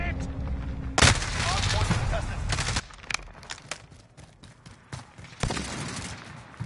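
Gunfire in a multiplayer video game tournament match: sharp bursts of rapid shots, a loud burst early on, then scattered pops and another burst near the end.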